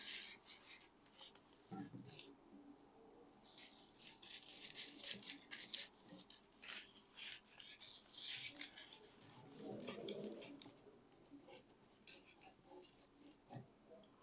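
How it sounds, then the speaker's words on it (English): Scissors snip through excess pattern paper in a quiet room, a faint series of short crisp cuts and paper rustles in an uneven rhythm. "So what we'll do now is to cut out the excess."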